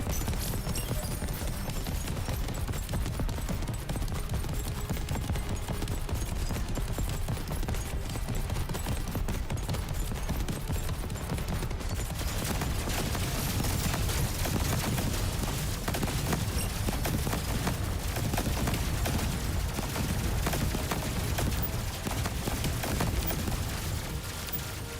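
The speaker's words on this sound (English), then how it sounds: "Start bombing." Continuous dense barrage of bombing and rapid gunfire from the shoot-'em-up game Cygni: All Guns Blazing, loud and relentless throughout with layered thuds and crackling shots, no talk.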